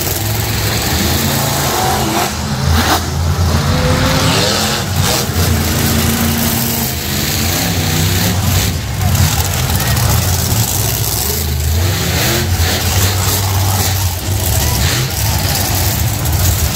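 Monster truck engines roar and rev loudly at a live arena show, a dense, sustained throaty rumble with surging accelerations and crowd noise and an announcer's voice mixed in throughout.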